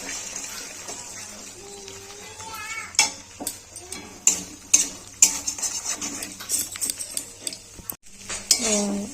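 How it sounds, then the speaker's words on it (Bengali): Three eggs with salt cooking in a kadai, with a faint sizzle under repeated metal clinks and scrapes of a spatula stirring against the pan, fairly close and uneven in rhythm. "তিনটে ডিম দিয়ে দেবো কড়া ভেজে নেবো নুন দিয়ে দেবো ভেজে নেবো"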